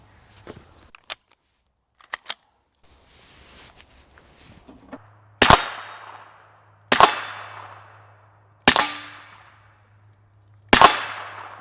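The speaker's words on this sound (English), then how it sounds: "I'll limp wrist it for y'all to show you it's reliable while limp wristing" A suppressed pistol fitted with a Flux Raider X fires four sharp, evenly spaced shots with short ringing tails at an outdoor shooting range, preceded by light handling clicks and a low steady hum.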